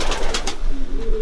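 Racing pigeons coo softly nearby in a loft, a low, throaty burbling call repeated a few times over a brief moment.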